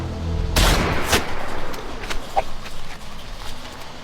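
A single loud, sharp gunshot cracks near the start and is followed by a few fainter impacts and rattling echoes that fade over the following seconds.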